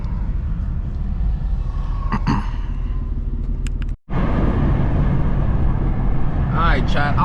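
A BMW M2 engine in a driving video game drones loudly and steadily. There is a brief cut to silence midway, then the engine returns with a rising rev near the end. A voice talks over it.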